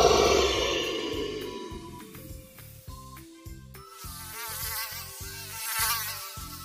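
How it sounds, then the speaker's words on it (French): A mosquito buzzes continuously close by over a gentle animated children's soundtrack, a thin whining tone weaving back and forth as it circles around a sleeping bear. "le moustique est plus rapide et continue de voler autour de lui"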